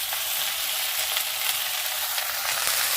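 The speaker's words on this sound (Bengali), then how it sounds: "ঢেঁড়সটা ভেজে নিই" Okra fries in a pan with a constant bright sizzle and crackle, close and steady throughout, with no voices.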